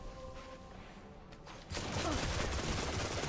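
In Destiny, quiet game ambience with faint tones gives way abruptly to a loud, dense stream of sidearm gunfire and impacts that continues to the end, with no speech.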